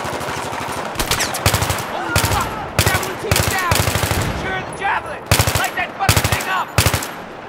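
Automatic gunfire in the Battlefield 3 campaign mission Operation Guillotine, loud repeated bursts of machine-gun fire in rapid rhythmic clusters, with a voice breaking in between some of the volleys.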